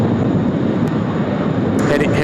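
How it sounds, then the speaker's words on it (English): Qantas Airbus A380 beginning its takeoff roll at Sydney Airport, a steady broad roar of jet engines holding loud and even throughout, with a faint voice over it. "Qantas A380 now rolling"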